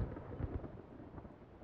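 A thunderstorm in the Final Fantasy XIV game: low rumbling thunder with a few soft booms early on, then a steady hiss of rain, fairly faint and with no voices.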